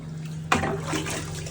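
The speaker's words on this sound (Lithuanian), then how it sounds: "Nupili su vandeniu." Water is poured by hand to flush a simple toilet at a trekking lodge in Gorak Shep on the Everest trail: a sudden splash, then a rushing, gurgling wash that continues steadily over a low background hum.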